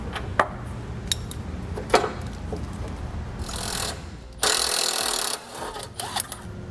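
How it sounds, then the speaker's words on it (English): Wrench and socket working an 18mm tow hook bolt on a 2005 Chevrolet, with sharp metallic clicks and a rapid ratcheting burst, close and without talk. "For this, probably a wrench and socket is going to be the better plan on how to get it off."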